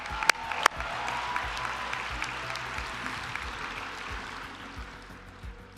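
Audience at a virtual graduation commencement applauds in a steady, moderate wash of clapping with a couple of sharp nearby claps at the start, gradually tapering off.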